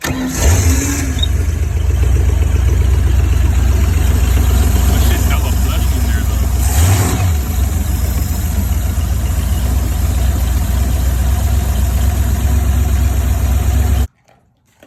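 Boat engine fitted with a Holley marine carburetor cranking and catching, then running at a loud, steady rough idle close by for most of the time before cutting off abruptly, with voices over the engine.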